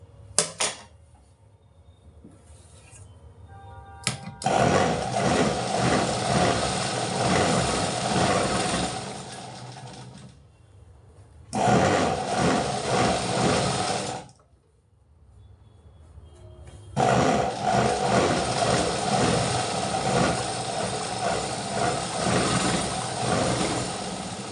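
A sewing machine stitches piping onto a blouse waist in three loud bursts of rapid running whir, separated by brief quiet pauses with faint handling noises.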